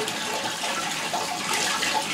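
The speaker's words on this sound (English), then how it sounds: "Right now, I'm just waiting until the water gets kind of warm" Steady water flows and splashes into a gravity-fed Cherub colonic chair system, a continuous hiss of running water at even strength throughout.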